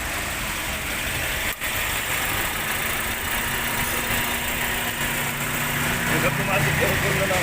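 A Toyota Vios 1NR-FE engine idles steadily up close, a constant low rumble and hum with a slight vibration throughout.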